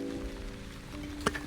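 Soft, steady rain from a rain cloud in the Wandering Village game, a low continuous patter with a faint game music bed and one brief brighter tick near the end.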